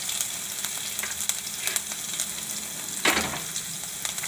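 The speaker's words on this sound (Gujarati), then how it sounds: "થોડુંક આપણે આદુને મરચું નાખશું થોડીક આપણે હિંગ નાખશું" Ginger, green chili and asafoetida sizzling in hot oil for a Bhavnagar-style chana dal shaak, a constant bright hiss with a few soft stirring clicks and one sharper crackle partway through.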